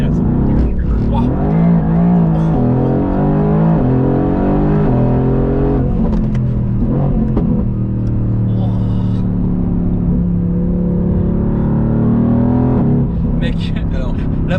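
A 1000 hp Mercedes-AMG GT R Pro Stage 4 in drift mode, its engine roaring loud and steady throughout with the pitch rising and falling as it revs, while people talk and exclaim over it from inside.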